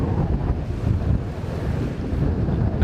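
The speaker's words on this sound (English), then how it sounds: "It's a bit windy there, isn't it?" Strong wind blowing at Karangahake Gorge, New Zealand, buffeting the microphone in a loud, continuous low roar that gusts unevenly throughout.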